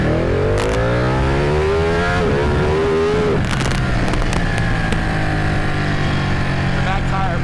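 A 2015 Ducati Panigale 899 motorcycle accelerates hard at full throttle, its engine note climbing loud and close through quick-shifted gears, with a rising whine and wind noise filling the clip.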